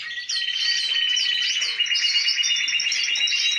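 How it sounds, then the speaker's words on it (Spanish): A dense, steady chorus of high-pitched chirping birds in an aviary while being fed, many calling at once, close and continuous with little pause. "le están dando todo de comer a los pájaros, lo estoy escuchando yo."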